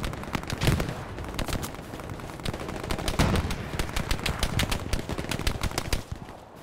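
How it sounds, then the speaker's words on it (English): Dense video game battle gunfire from a winter fight at Foy: rapid overlapping bursts of rifle and machine gun shots crackle continuously at a moderate distance, with sharper nearer cracks scattered through. "It sounds like there's a lot of gunfire up ahead."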